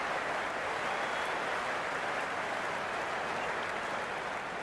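Crowd applause in an IPL cricket video game, a dense, continuous roar of clapping and cheering held at an even level throughout, with no talking.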